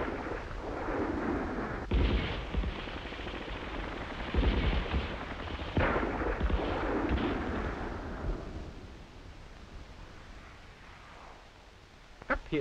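Battle-film soundtrack of rifle, machine-gun and mortar fire at Dien Bien Phu: heavy booming blasts and rumbling artillery thuds roll through the first two-thirds, then fade to a quieter distant rumble before a final sharp report.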